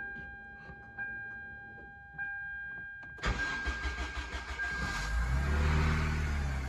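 Toyota MR2 with a swapped-in Honda K20 engine cranks after quiet fuel-pump priming clicks and whine, then catches and fires up loudly, settling into a rough, revving idle close by.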